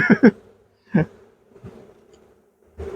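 Honeybees buzz in short, close bursts during a hive inspection in a Ukrainian hive, a few loud passes separated by quiet gaps, with no talk.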